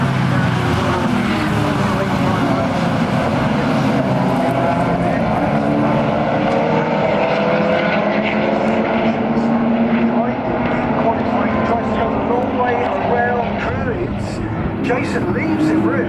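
Two BMW racing cars and the rest of the field accelerate away from a standing start at Brands Hatch. A dense, loud engine roar with rising and falling harmonics runs throughout, with a commentator talking over it.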